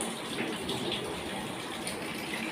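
Warm water gushes and splashes steadily while a dog is bathed with shampoo, a continuous close running-water rush with no break.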